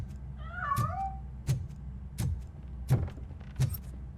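A cat meows in RoboCop Rogue City, one clear rising-and-falling mewl near the start, followed by several short thumps or footsteps spaced about a second apart.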